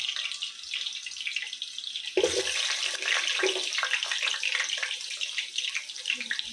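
Tap water pours steadily into a bowl of cut potatoes for pulao, a quiet hiss that turns into a louder, fuller splashing gush partway through, close up with no talking.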